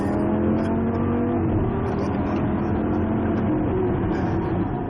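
A Lamborghini V10 engine holds a loud, steady, full-bodied revving roar for the whole stretch, close by, with no talking over it.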